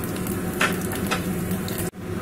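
Panch phoron, a Bengali five-spice mix, sizzles steadily in hot oil in a pan after a pinch of asafoetida, a dense crackling hiss that runs continuously and briefly cuts out near the end.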